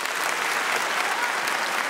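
A stand-up comedy crowd claps together in a sustained burst of even applause, loud and unbroken for the whole stretch, with no voices rising above it.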